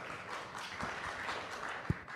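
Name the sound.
audience applause welcoming speaker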